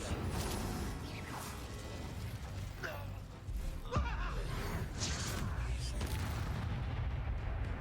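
The Incendio fire spell in the Hogwarts Legacy video game gives off a faint, roaring blast with whooshing bursts, set against steady background game noise.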